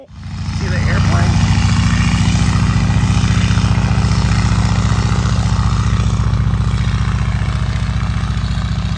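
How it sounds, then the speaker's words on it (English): A loud, continuous engine drone with a low propeller-like throb, steady throughout as an aircraft passes nearby over Sandbridge Beach, Virginia. "See the airplane?"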